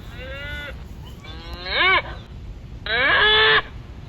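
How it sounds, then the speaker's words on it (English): A cow moos loudly and close by, two long drawn-out calls with a shorter low call before them, over steady outdoor background noise. "Definitely a cow."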